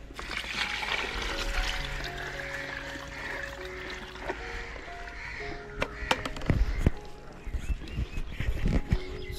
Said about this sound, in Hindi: इस ट्यूबवेल में अभी मैंने पानी डाल दिया